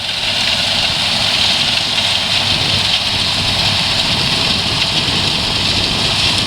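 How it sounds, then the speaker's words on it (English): An older tractor drills wheat in a field, its engine droning steadily and loudly throughout with a deep low rumble and broad mechanical noise, heard close and without any talking. "He's drilling wheat here."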